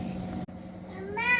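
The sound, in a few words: cat meowing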